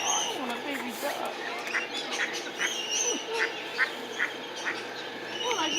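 Ducks quack intermittently at moderate distance, short nasal calls scattered among chirping birds and a soft outdoor background while people talk nearby.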